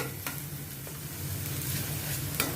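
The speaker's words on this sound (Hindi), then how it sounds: "इसको भी अच्छी तरह से मैं सौते करती हूँ पहले, ताकि अनियन का भी कच्चापन निकल जाए" Finely chopped onions sautéing in a pan for masala eggplant, a soft steady sizzle with occasional stirring scrapes, close and fairly quiet, with no talking.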